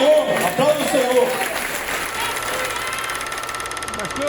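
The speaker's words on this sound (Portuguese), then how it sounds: "Você que crê, dá um glória a Deus e aplauda o Senhor." A church congregation applauds during a sermon, a continuous wash of clapping under a loud, steady hum, with a voice speaking over the start.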